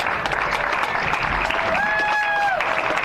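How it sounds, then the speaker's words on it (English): Crowd applause for riders stepping onto the podium after the DP Brakes Liquid Twins final at a bagger motorcycle race, Chuckwalla Valley Raceway, a steady wash of clapping with a sustained tonal whine sliding in midway. "How about a nice round of applause for the DP Brakes Liquid Twins final?"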